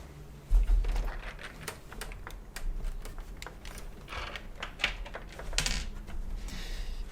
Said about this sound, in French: je vais secouer un petit peu pour faire tomber les vis